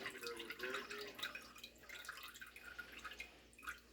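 Water pours into a cooking dish of pineapple pork chops, a soft trickling and dripping splash that goes on and off over a few seconds, fairly quiet and close.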